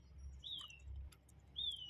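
Small bird chirping outdoors in a quiet garden, two short high whistled calls about a second apart, faint against low background rumble.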